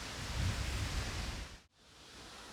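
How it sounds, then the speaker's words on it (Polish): Wind blowing at a lake, a loud broadband rush buffeting the microphone that cuts out abruptly for a moment, then resumes as a softer steady whoosh. "Ale wieje."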